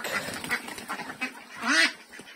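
Several 24-month-old farm ducks quack in short nasal bursts at close range, one louder honking quack standing out near the end.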